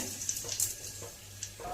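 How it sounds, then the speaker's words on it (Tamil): Mustard seeds splutter in hot oil in a pan, with small sharp pops and spits scattered over a steady hiss, close by. "கடுகு பொரிஞ்சிருச்சுங்க"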